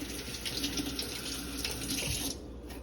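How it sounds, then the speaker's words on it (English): Vegetable stalks rinsed under a running tap after a vinegar-water wash, the steady broadband splash of water continuous and close, easing off near the end. "we're gonna wash it in our vinegar water, then rinse"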